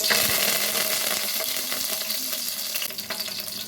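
Cumin, dried red chillies and curry leaves frying in hot oil for a dhaba-style potato curry, a dense, bright, close sizzle with crackling pops throughout, easing slightly near the end, with no voices.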